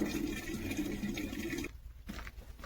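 Water runs steadily into a container at close range, a continuous rushing flow that cuts off abruptly partway through, leaving quieter drips and trickles behind.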